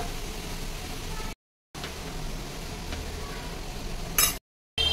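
Bottle gourd frying in a pan, a soft steady sizzle with faint stirring scrapes at low level, cut by two short silent gaps.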